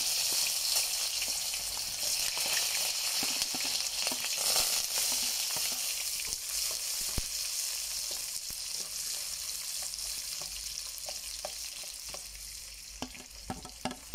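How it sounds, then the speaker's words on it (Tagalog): Chopped onion, garlic and ginger sizzle loudly in a hot pan for a Filipino coconut-milk tilapia dish. The frying hiss starts strong and fades slightly, and clicks of stirring become more frequent toward the end. "magigisa na po tayo ng sibuyas, bawang, luya"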